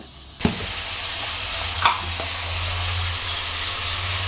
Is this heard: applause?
no